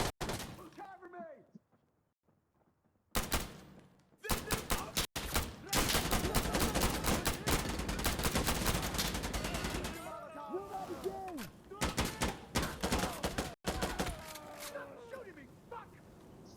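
Gunfire in the video game Insurgency Sandstorm, with loud bursts of rapid automatic fire and scattered single shots crowding most of the stretch, mixed with shouting players and brief quieter gaps.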